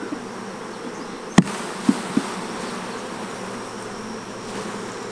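Honey bees buzz in a steady, dense drone as they are shaken off a hive frame, punctuated by three sharp knocks from the frame hitting a homemade hive.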